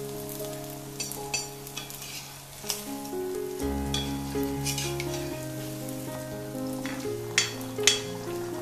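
Neyyappam batter fries in hot oil with a steady, close crackling sizzle, sharp spattering pops scattered throughout, and a low steady hum beneath, with no voices.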